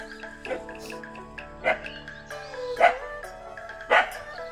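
A dog on or near a winter terrace garden barks four times at roughly one-second intervals, moderately loud and somewhat distant, with steady background sound between barks.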